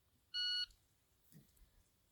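A shot timer gives one short, sharp electronic beep, high-pitched and steady in tone, which stands out against quiet background noise and a soft thump just after it.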